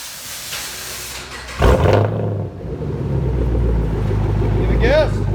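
Exhaust of a 2011 Chevy Camaro SS with dual straight-pipe exhaust, mufflers and resonators removed, rumbling loud and close in a steady deep idle with a sharp surge partway through, voices faint underneath.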